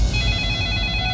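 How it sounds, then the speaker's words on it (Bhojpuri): A telephone rings with a steady, bright electronic tone that sounds alone and fairly close for just over a second. "कितना फोन आवेला इनकर का मालूम"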